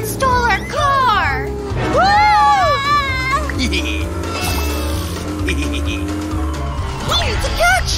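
Cartoon car speeding away, engine revving with rising and falling whines and tires squealing, loud and near, while children's voices shout and chatter over it.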